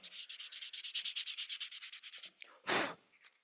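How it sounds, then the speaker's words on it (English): A wooden gallery rimmed bowl is sanded by hand in fast, even back-and-forth strokes, a close raspy rubbing pulse repeating about eight times a second, then a few slower strokes and one long scrape. "you can always sand these down"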